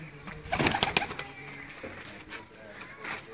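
Pigeons of a Sialkot breed cooing faintly in a loft, soft rounded calls clustered near the start amid light background noise and low talk.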